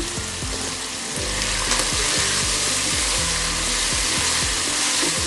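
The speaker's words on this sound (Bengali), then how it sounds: "এটাকে আমি খুব ভালো করে ভেজে নিব" Beef tripe sizzles steadily in hot oil with turmeric powder, a dense loud frying hiss with repeated scraping stirs of a utensil against the pan.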